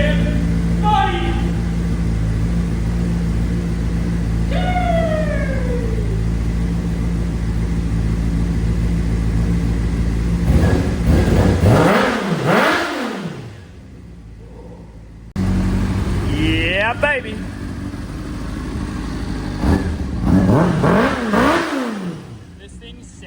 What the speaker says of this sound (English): This thing sounds so rowdy. I gotta be careful on this motherfucker. Oh my god. Success! Bike runs.